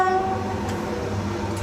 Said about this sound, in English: I'm just going to test the horn because I test it when I leave King's Cross